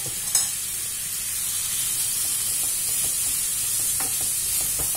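Cauliflower, about 500 g, drops into a hot pan and sizzles steadily while it is stirred. The hiss is loud and continuous, close up, with a sharp clatter near the start and no voices.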